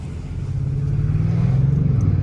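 An Audi RS6 engine idles close by with a deep, steady exhaust rumble, muffled by a particulate filter, that swells slightly as it runs.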